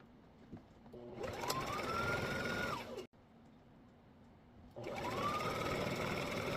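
A sewing machine stitching down the long side of folded tote pocket pieces runs in two bursts, each a whirring, rising whine that holds steady, separated by a short pause, close and fairly quiet, with no talking.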